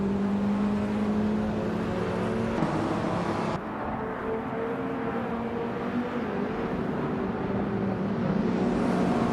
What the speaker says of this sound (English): Taking pole position is Buck Bunny in a sleek 1987 Buick GNX from the 1980s supercar class